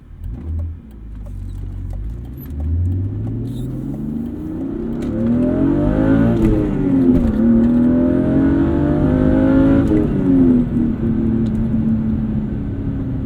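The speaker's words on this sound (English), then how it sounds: "M50 manifold makes your OBD2 E36 really rev heavy" A BMW E36 engine fitted with an M50 intake manifold revs repeatedly, its tone climbing and falling through several loud, close throttle blips over a steady low rumble.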